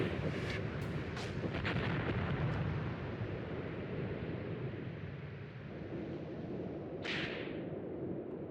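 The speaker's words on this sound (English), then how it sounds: "They've got artillery on steroids." Artillery fire in Tank Warfare: Tunisia 1943, a few sharp booms early on over a constant rumbling battlefield wash, moderately loud, with a hissing burst near the end.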